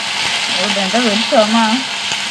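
Dried red chilies and curry leaves hit hot oil with a close, loud sizzle and crackle, a few sharp spits and pops breaking through the steady frying hiss.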